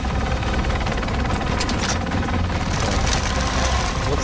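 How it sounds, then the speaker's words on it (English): Helicopter in Call of Duty: Modern Warfare, a loud, close, continuous rotor and engine drone with a steady throb and no voices over it. "We got to the chopper."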